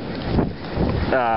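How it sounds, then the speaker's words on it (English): Gusts of wind buffet the microphone in rough, rumbling bursts, loud and close. "pardon the wind"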